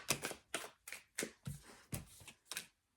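A deck of tarot cards is shuffled up close, eight quiet riffling bursts in a steady rhythm, with no talking.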